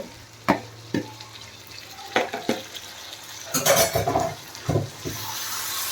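Prawns frying in a pan are stirred with a utensil, giving several sharp scrapes and clinks against the pan over a low sizzle, close and without speech.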